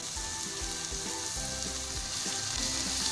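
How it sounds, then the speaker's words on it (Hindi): Capsicum and carrots frying in a pan alongside chicken for restaurant-style chicken fried rice, a loud continuous sizzle broken by repeated low knocks of stirring and tossing, no talk. "शिमला मिर्च को भी हम फ्राई करेंगे गाजर के साथ कुछ सेकंड के लिए।"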